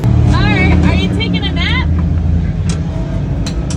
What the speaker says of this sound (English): Those cars are so noisy.